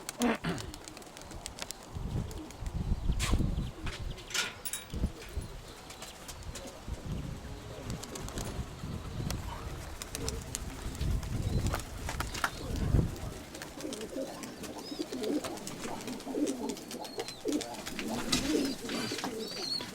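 Soft, low cooing of pigeons repeating through the clip, mingled with wing flutters and light rustling close by.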